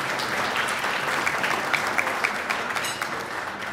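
An audience at a conference event gives a sustained round of applause, a steady wash of many hands clapping at moderate volume with a few sharper claps standing out near the middle.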